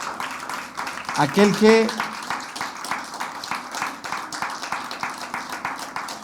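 A church congregation applauding, a dense, steady clapping texture at moderate loudness filling the whole span, with a voice briefly speaking over it.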